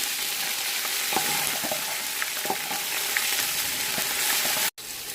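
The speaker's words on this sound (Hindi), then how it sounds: "अब हम इसमें अदरक और लहसुन का पेस्ट ऐड करेंगे। बिस्मिल्लाहिर्रहमानिर्रहीम। 1 से 2 मिनट तक फ्राई करेंगे।" Onions with ginger garlic paste fry in a pan, a steady continuous sizzle with faint scattered crackles and stirring scrapes, close and fairly loud, with a brief dropout near the end.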